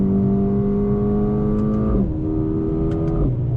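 A 2020 Mercedes-Benz CLA35 AMG 4MATIC accelerates hard through a corner, its loud, close engine droning and climbing in pitch, with two quick gear shifts breaking the rise partway through.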